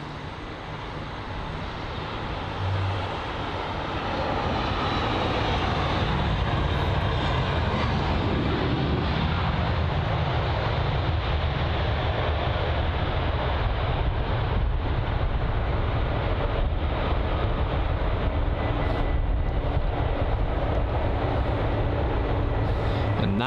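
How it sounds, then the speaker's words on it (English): Aer Lingus Airbus A320-200 in retro livery touching down at London Heathrow, a loud, steady roar of jet engines that swells after the first few seconds and holds broad and heavy for the rest of the stretch, with no talk. "That was a nice touchdown there from the retro livery A320-200."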